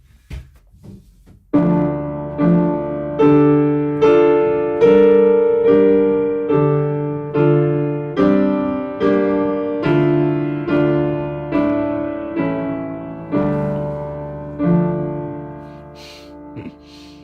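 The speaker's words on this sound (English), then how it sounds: "when I play Twinkle, Twinkle, Little Star in a minor key" A piano plays a slow, gentle Twinkle, Twinkle, Little Star melody in a minor key, single notes over sustained chords, each note ringing and fading, with no voices.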